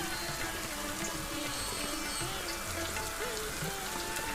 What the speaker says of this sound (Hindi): ऊपर से ये ठंड और बारिश अपना कहर उठा रही है